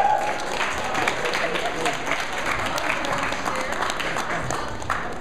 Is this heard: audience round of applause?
yes